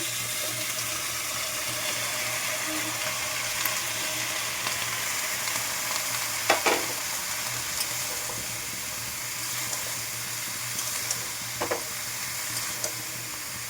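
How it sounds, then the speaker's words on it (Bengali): Mixed vegetables sizzle steadily in a pan for a dried-shrimp curry, a constant bright hiss with a few soft clinks of stirring near the middle and end, no voices. "এখন সবজিগুলো দেওয়া হচ্ছে"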